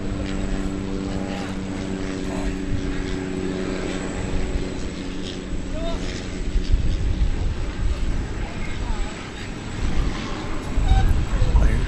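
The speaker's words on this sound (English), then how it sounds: "I heard a propeller plane." Propeller plane droning steadily at DFW Airport under cloudy skies, a continuous engine hum with broadband wind-like rumble throughout, moderately loud and fairly close.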